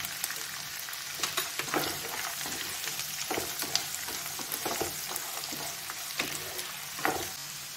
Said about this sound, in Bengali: রসুনটা ভাজা হতে হতে এর সঙ্গে আমি কাজুটাও দিয়ে দিচ্ছি।